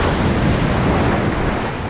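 Waves break at Praia de Faro beach in the Algarve as a dense, steady roar of surf close by, mixed with some wind rumble on the microphone over the short stretch.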